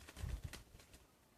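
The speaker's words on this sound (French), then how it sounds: "On a des petits pigeons qui font du bruit." A faint, low cooing from a pigeon in Brittany, brief and soft, with quiet ambient noise around it.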